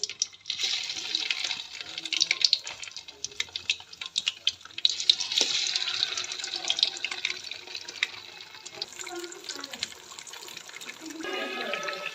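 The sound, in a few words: battered chicken frying in oil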